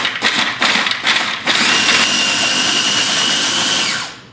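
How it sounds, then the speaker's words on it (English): A food processor grinding garlic, turmeric and other sambal base ingredients, first a few short pulsed whirs, then a loud continuous high-pitched motor whine that runs steadily before cutting off. "into the processor goes the base ingredients for my sambal. And I'm gonna grind that up."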